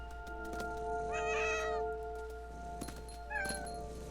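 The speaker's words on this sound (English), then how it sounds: "it was a cat." Cat meowing in the What Remains of Edith Finch video game, one clear drawn-out meow in the middle followed by a shorter, fainter mew near the end over a quiet background.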